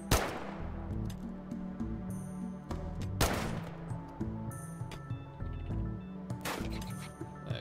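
Sharp gunshots crack out in a RimWorld colony battle against mega spiders, several loud reports spaced irregularly over a busy layered bed of clinking combat effects.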